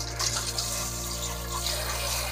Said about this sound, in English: Let's run some good water.